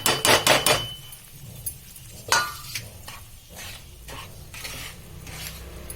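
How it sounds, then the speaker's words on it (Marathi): Wheat flour being roasted in ghee for ladoos, with sharp spoon scrapes and clinks against the pan at the start and later, over a low, quiet sizzle. "गव्हाचं पीठ आहे ते आपण तूप टाकून परतून घेऊया"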